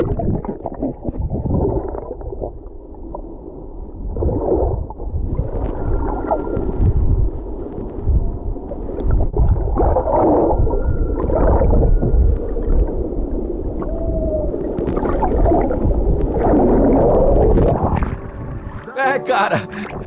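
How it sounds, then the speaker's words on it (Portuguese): Whale chorus recorded underwater off Oahu, Hawaii with a GoPro: loud, continuous moans and rising calls layered over a low watery rumble for about eighteen seconds, ending in a burst of splashing noise. "здесь хор китов"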